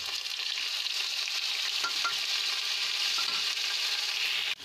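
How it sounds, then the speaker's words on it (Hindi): Ginger, garlic and onion paste fries in a pan while being stirred for radish kofta curry, a close, continuous sizzle with scraping stirs throughout and no talking. "हम इस पेस्ट को जो है हल्का गोल्डन होने तक भून लेंगे"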